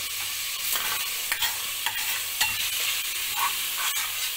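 Shrimp fry in hot oil with a steady close hiss and crackle, broken by scattered sharp pops and clicks of stirring.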